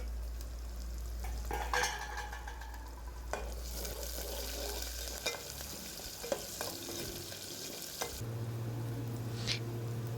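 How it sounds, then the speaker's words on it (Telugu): Thinly sliced onions fry in a pan for drumstick sambar, giving a steady close sizzle with scraping stirs and occasional clinks of the spatula, continuous throughout, no voices. "బాగా ఫ్రై అయిన తర్వాత సన్నగా తరిగిన ఆనియన్స్ వేసుకొని ఎర్రగా వచ్చేంత వరకు ఫ్రై చేసుకోవాలి."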